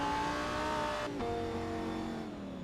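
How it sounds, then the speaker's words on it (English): A steady GT3 race car engine in a racing video game at Le Mans drones at fairly low revs from short shifting, its pitch dipping briefly partway through before settling into an even hum. "It sounds like he's short shift and running those lower revs right now."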